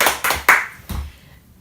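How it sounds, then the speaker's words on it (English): A few bursts of hand clapping from an audience in a talk or seminar, short and loud, quickly fading into near silence. "Let's clap for her."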